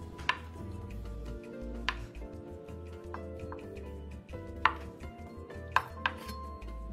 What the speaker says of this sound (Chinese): 鱼饼一个，切片后再切成条状。